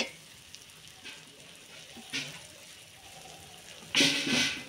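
Goat meat goes into a pan of sizzling, well-fried homemade spice masala; a soft crackle with small pops leads to a sudden loud burst of close sizzling as the meat hits the oil.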